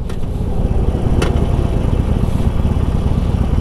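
A 2020 Harley-Davidson Sportster Forty-Eight motorcycle accelerates, its low engine rumble loud and continuous, with a brief sharp burst of noise early on.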